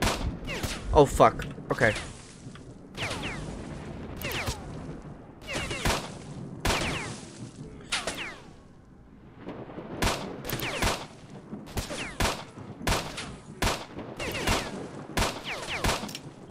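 Gunfire in S.T.A.L.K.E.R.: Shadow of Chernobyl, with sharp shots cracking in irregular bursts and single reports over the whole stretch, partly close and loud, while a player swears and talks over them.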